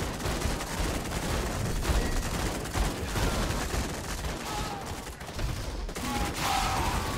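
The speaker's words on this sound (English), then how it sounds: "those airstrikes were huge" Airstrikes in the real-time strategy video game Zerospace produce a dense, continuous barrage of explosions and rapid gunfire, loud and unbroken for the whole stretch with no clear pauses.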